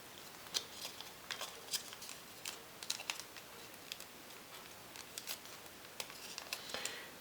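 Origami paper being folded and creased, with a scattering of light, crisp taps and rustles at irregular intervals, close and quiet.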